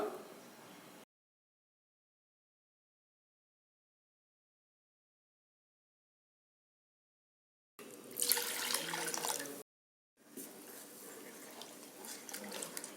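Water is poured into appam rice batter in a brief splash, stops for several seconds, then runs again in two longer, steady bursts with a short gap between them.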